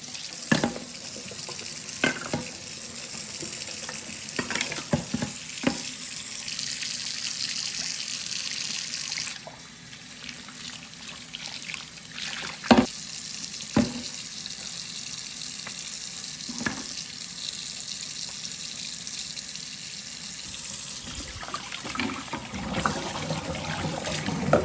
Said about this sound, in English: I have to wash these quickly and then let them dry.